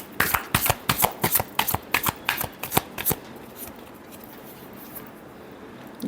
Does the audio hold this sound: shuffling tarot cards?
yes